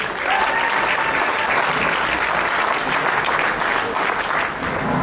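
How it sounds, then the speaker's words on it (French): Guests at a civil wedding in Gabon break into loud, dense applause to welcome a singer, a close and steady wall of clapping throughout with a few faint voices beneath. "Mesdames, messieurs, applaudissements pour recevoir maman Edith."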